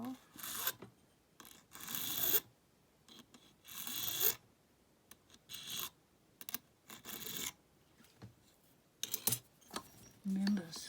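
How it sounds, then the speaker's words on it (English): Hand file rasping on a key for a vintage Lockwood 571 mortise deadbolt: short, scratchy strokes in irregular bursts with pauses, close and faint, with someone speaking quietly in between. "not a whole lot of pressure on the file, otherwise you'll take off too much."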